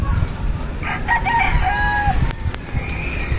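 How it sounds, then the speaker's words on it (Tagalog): A hen with her chicks, soft clucking and brief chick-like calls close by over a rough outdoor background hum, with short bursts of sound in the first half and quieter stretches after. "naiwan lang dito yung asawa ni Frankie tsaka yung niya, sisiw niya"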